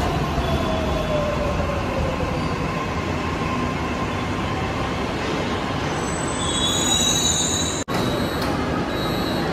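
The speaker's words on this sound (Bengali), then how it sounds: "মেট্রোর জন্য আমরা অপেক্ষা করছি" A metro train moves through a metro station, loud and steady with rumbling wheels and rising metallic squeals, close by and with no talk.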